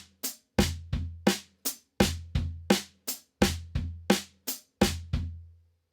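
A drum kit plays a slow samba foot pattern with the right hand striking the off beat, crisp separate hits over a steady low bass-drum pulse, evenly spaced and close with nothing else heard.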